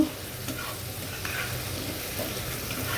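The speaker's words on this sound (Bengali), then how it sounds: "এটা এখন ভালো করে আমি নেড়ে দেবো।" Mixed vegetables and paneer are stirred in a frying pan, giving a steady, close sizzle with continuous scraping and turning throughout, and no voices.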